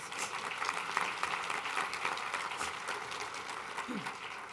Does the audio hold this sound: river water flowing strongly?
no